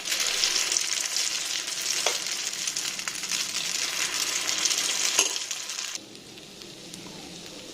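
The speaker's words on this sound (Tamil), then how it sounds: "இப்போ நம்ம பணியாரம் ஊற்ற போகிறோம். முட்டை பணியாரம்." Egg paniyaram batter sizzles steadily in a pan, a dense continuous frying hiss with a few faint clinks, dropping noticeably quieter for the last couple of seconds.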